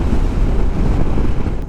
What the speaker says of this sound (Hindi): यहाँ हवा बहुत चल रही है यार, बहुत ज़्यादा हवा चल रही है इधर।